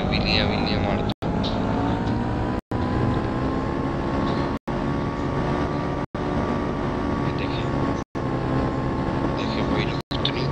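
Motorbike engine from the mobile game Indian Bike Driving 3D, a steady droning rev during wheelies, cut by brief dropouts at regular intervals.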